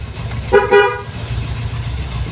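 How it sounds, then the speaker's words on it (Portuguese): The original horn of a 1977 Ford Corcel gives two short honks in quick succession over a steady engine rumble. "Buzininha original ainda do carro."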